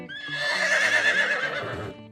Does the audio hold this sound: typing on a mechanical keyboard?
no